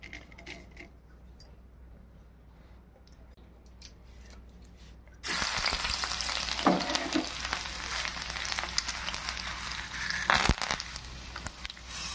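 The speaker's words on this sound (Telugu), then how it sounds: "నూనె కాగిన తర్వాత ఈ తాలింపు గింజలన్నీ దీనిలో వేసుకోవాలి" Quiet crackling gives way to a sudden loud, steady sizzle as tempering seeds and curry leaves hit hot oil, spitting and popping continuously with no talking.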